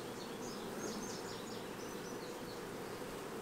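Honeybees hum steadily around an opened hive while a summer split is being made, a dense, continuous near buzz with no talking.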